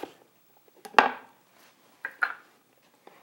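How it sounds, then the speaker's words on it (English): Knife chopping an onion on a board, a few sharp separate chops with quiet gaps between them, close and fairly loud with no voice. "now I'm going to begin to slice the onion"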